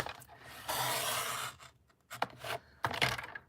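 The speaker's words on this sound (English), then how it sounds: "I'm going to cut from here to that score line." Paper being cut along a line up to a score mark, giving a steady scraping slice for about a second, then a few shorter cutting strokes close by with no talk.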